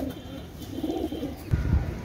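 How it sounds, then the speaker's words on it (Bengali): A pair of Kamagar pigeons cooing nearby, soft repeated low coos in a short sequence, with a faint background hum. "ভিউয়ার্স আপনারা লক্ষ্য করেন একজোড়া কামাগার কবুতর"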